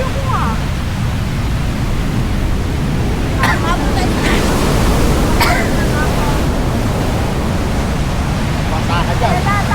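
Small waves roll onto the beach at Dingalan, Aurora, making a steady, close, full wash of surf that never lets up, with faint voices talking now and then underneath.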